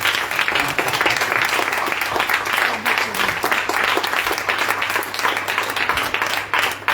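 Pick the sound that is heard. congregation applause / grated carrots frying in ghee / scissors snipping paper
congregation applause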